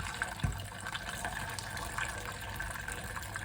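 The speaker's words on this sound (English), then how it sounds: "I'm going to drain some of that water" Broccoli cooking water drains steadily from a pan, a continuous close splashing gush with a small clunk near the start and no talk.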